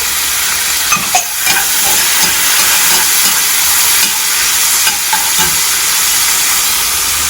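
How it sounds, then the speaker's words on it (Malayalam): Honey chilli chicken sizzles loudly in a hot pan, with a continuous close frying hiss and occasional scraping stirs. "എന്നിട്ട് നല്ലോണം മിക്സ് ചെയ്ത് കൊടുക്കണം"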